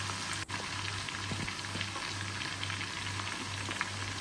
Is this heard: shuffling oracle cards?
no